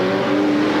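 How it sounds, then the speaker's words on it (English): Alfa Romeo Alfetta GTV race cars competing at a Tranzam event at Surfers Paradise, a loud, steady engine drone close by with a sustained high note, no voices. "Brian Smith, I just saw moving up very quickly also in the Alfetta GTV"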